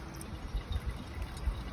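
Water poured into a pour-over coffee maker, a soft continuous gurgling and splashing with low bubbling, fairly close and steady throughout.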